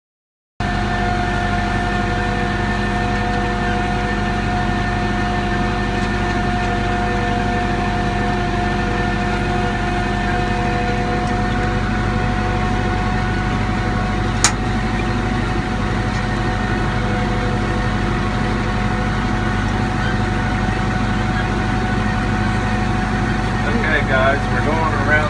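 A tractor engine runs steadily during a second soybean cultivation pass with an aggressive Danish tine cultivator, a loud continuous drone with rattling machinery that holds nearly unchanged throughout.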